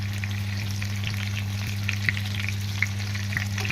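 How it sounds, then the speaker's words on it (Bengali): Pumpkin pieces stir-fry in a pan with crackling, popping oil and frequent small spatula taps over a low steady hum, close and continuous. "এবার আমি একটু নেড়ে চেড়ে ভেজে নেব।"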